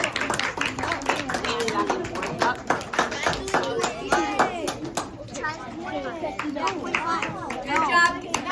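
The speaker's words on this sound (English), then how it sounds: "Round of applause." An audience applauds after a student law-fair mock trial: uneven, fairly close hand claps mixed with lively chatter and children's voices throughout.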